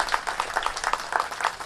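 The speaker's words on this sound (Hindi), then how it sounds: "एक बार आप जोरदार तालियां बजाकर इनका स्वागत करिए" An audience gathered for Nitin Gadkari's speech in Nagpur claps warmly to welcome guests, a dense patter of many hands applauding at close range.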